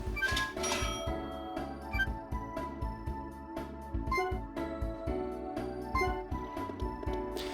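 Shop purchase sound effects in the video game Harvest Moon: Tree of Tranquility, bright chiming register-like dings repeating over loud, continuous background game music.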